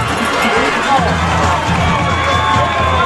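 A home crowd of Kilgore Bulldogs fans cheers and roars in the stands at a Texas high school football game against Henderson, a loud, steady wash of voices with no break.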